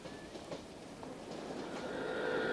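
A train runs along a railway at a steady distance, its rolling rumble and faint rail clatter building gradually, with a thin metallic whine rising toward the end and no voices.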